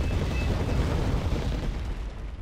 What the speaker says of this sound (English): Oh, rocket artillery fire on the panzer mortars.